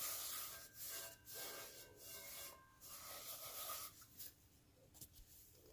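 A towel rubbing oil around a cast iron pan, a soft, steady scrubbing swish in repeated strokes, quiet and close with no talking.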